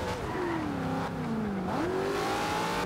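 A car engine revving in the racing video game Forza Horizon 2 after a crash, its tone rising and falling in close, continuous revs with no speech.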